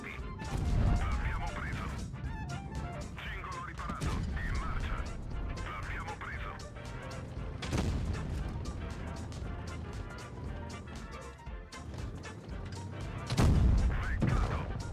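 Tank cannon shots in a tank battle game featuring the Rinoceronte, heavy booming blasts at the start and near the end over a dense rumbling battle bed, with someone talking throughout.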